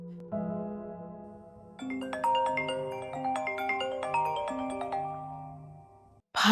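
A mobile phone ringtone plays a bright electronic melody, close and alone, building from a soft opening before it cuts off abruptly.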